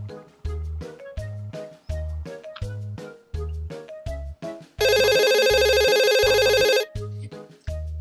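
A phone ringing on a call, repeated rhythmic tone bursts with a bright, sustained electronic ring in the middle, loud and close with no talk.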